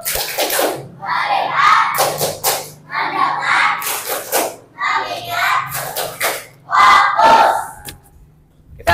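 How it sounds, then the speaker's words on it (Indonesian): Students in a classroom do a focus clap, a patterned sequence of crisp group claps alternating with short unison chants, close and loud with brief gaps between phrases. "Semangat. Tepuk fokus."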